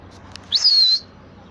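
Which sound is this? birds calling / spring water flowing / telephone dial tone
birds calling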